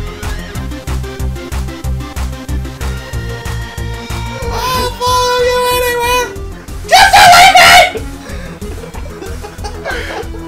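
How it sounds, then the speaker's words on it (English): A woman screams in the horror video game Fatal Frame 2: a loud, wavering shriek rises over steady, pulsing game music, then a harsher, louder cry breaks out near the end. "she's screaming at the top of her lungs."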